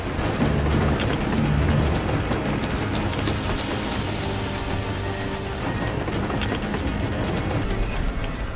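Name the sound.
train in the video game Metro Exodus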